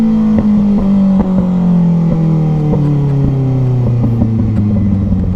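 Car engine droning steadily while driving, its pitch slowly falling, with repeated sharp exhaust pops and crackles scattered irregularly over the tone.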